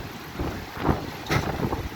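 Heavy rain and wind during a midday storm at Muang Thong Thani, a continuous rushing downpour with gusty surges of wind buffeting the microphone, fairly soft overall.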